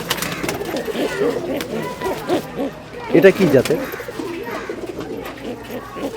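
Pigeons of several breeds on a rooftop loft coo repeatedly in soft, throaty bursts, swelling loudest near the middle, while a person talks briefly over the flock.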